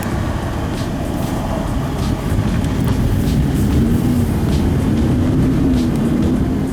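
A Lamborghini Huracan pulls away in Strada mode, a steady, loud engine drone with a low rumble holding level throughout and a slight rise in pitch as it gathers speed, no talk over it.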